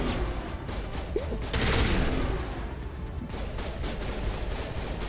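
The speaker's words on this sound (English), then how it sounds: "I want to shoot you again." Gunfire in the Mass Effect video game comes as rapid bursts of shots over a dense, noisy battle background, loud and close with brief heavier blasts.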